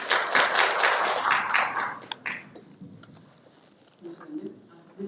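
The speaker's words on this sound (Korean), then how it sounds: "큰 박수로 맞아주시기 바랍니다" Attendees at an orientation for the Dongtan 7-dong residents' self-governance council give a welcoming round of applause. The clapping is bright and full for about two seconds, then thins out and fades, and a person begins speaking in a quiet room.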